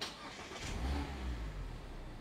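Manual Mazda Miata engine starting with the clutch pressed: a short crank followed by a catching, rising rumble that settles into a steady idle, close and clear, with no talking.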